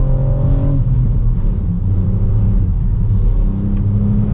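Ford Puma ST with its three-cylinder engine pulling hard: a steady, close, buzzy engine drone with strong low harmonics, heard alone without voices.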